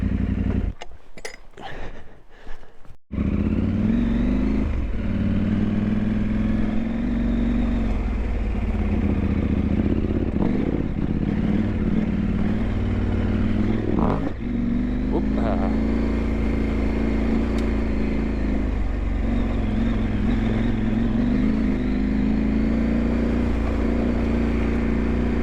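A KTM 890 Adventure R motorcycle rides steadily, its engine droning loud and close beneath heavy wind rush after a brief choppy start, with occasional clatter over rough ground.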